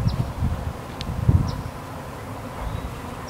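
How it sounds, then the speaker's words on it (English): Honeybees swarming in the air among fruit trees, a soft continuous buzzing hum with rustling and light wind, a few brief nearer wingbeat passes standing out. "As you can see, this colony is still swarming in the air."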